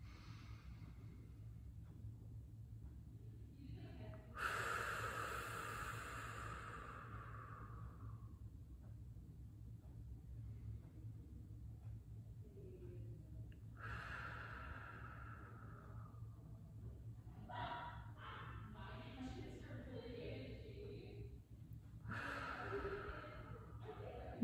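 Slow, deep guided breaths in a breathwork practice, several long airy inhales and exhales spaced seconds apart, soft and close over a low steady hum.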